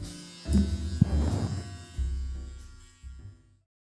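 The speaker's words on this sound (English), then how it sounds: "this compact shaver that offers a smooth finish thanks to its advanced dual blade skin safe technology" A compact dual-blade electric shaver buzzes in bursts, switching on and off several times with steady motor hum, close and fairly loud, no talking.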